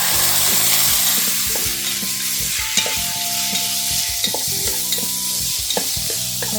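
Tomatoes being stirred into browned onions frying in a pan for Goan-style chicken vindaloo, a steady sizzle with repeated scraping spoon strokes throughout, close and fairly loud, with no talking.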